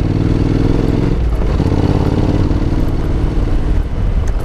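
A Honda NC750X motorcycle climbs uphill near a rock in Australia, its engine droning loud and steady with a rough, clattering low rumble throughout and no voices.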